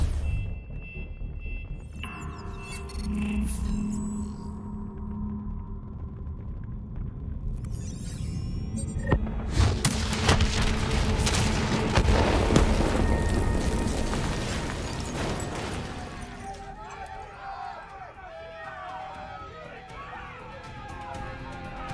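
A detonation in the video game Call of Duty Black Ops 3: a sustained, loud rumbling blast that swells and rolls on for many seconds under game music and effects, then trails into debris and crackle.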